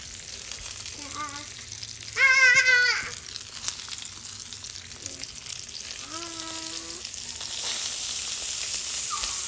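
Butter sizzles on a tomahawk ribeye on a Blackstone griddle, a steady close frying hiss that swells slightly toward the end, broken by a few brief squeaky tones.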